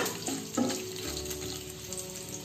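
Whole cardamom pods and two cloves fry in hot oil in a pan for an aloo masala curry, giving a steady close sizzle with a brief louder crackle early on and no talk.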